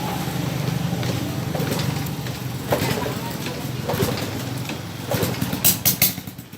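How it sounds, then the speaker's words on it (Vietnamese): A motorcycle with a broken exhaust bolt is kick-started and settles into a running idle, a steady mid-pitched engine drone with sputtering bursts toward the end, heard close up over faint background noise. "mình sẽ đạp nổ máy lên thử"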